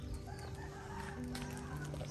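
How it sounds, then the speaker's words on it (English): A rooster crows at a distance near a waterfall in Bali, its call faint and partly masked by steady background rumble and ambient noise. "So they have roosters."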